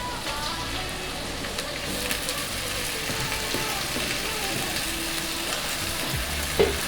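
Pigtail frying in a pan with onions, a continuous dense sizzle and crackle at close range, with a few faint clinks and a brief knock near the end.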